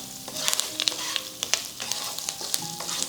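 Potatoes get stirred into spice masala in a hot pan, a spatula scraping and clacking in irregular bursts over a continuous background sizzle of frying.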